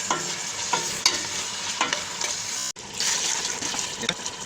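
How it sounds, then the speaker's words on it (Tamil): Tomatoes and green chillies being sautéed for chicken biryani, with a steady close sizzle and repeated stirring scrapes in the pan throughout, one brief break near the middle. "தக்காளி பச்சை மிளகா போட்டு நல்லா வதக்கவும்."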